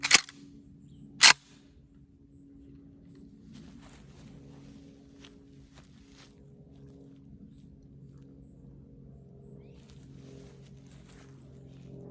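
A Remington Model 11-48 semi-automatic shotgun fires two sharp, loud shots about a second apart, followed by a low steady background hum.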